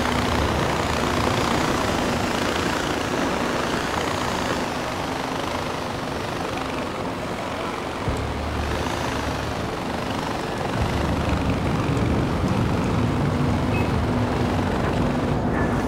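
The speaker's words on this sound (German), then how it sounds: "das hat sich mega an dem Helikopter angehört" A helicopter in the video game Far Cry 4 makes a steady, loud rotor and engine drone that runs unbroken throughout, with dense broadband noise and a low thrum.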